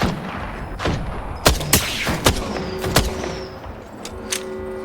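Weapon fire in the Apex Legends video game: a rapid series of loud, sharp gunshots in uneven bursts, with ringing tails between the shots.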